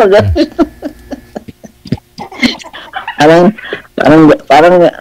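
A voice imitates a rooster strutting after a hen, mixing clucking bursts with loud, drawn-out crowing calls, and talk is woven between them.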